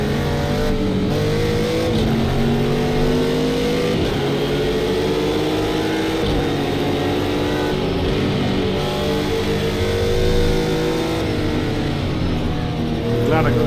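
A GT3 race car in a racing video game, its engine droning loud and continuous as it revs up and shifts through gears over and over, with a player talking now and then over the engine noise.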